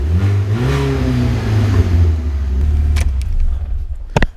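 A BMW car engine idles with a low, steady rumble, then revs, the tone rising and falling, with a couple of sharp clicks near the end.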